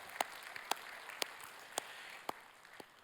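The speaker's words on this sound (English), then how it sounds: "So let's give them all a round of applause." A church congregation applauds faintly and far off, with a soft bed of scattered clapping broken by several sharper, evenly spaced individual claps.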